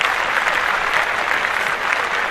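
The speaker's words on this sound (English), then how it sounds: "I'm clapping it up" Hands clapping in steady, dense applause, loud and continuous like a small crowd, with no talk over it.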